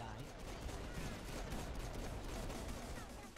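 Rapid gunfire in the video game Saints Row IV, a dense continuous burst of shots lasting the whole moment at steady loudness, with chatter of players mixed in underneath.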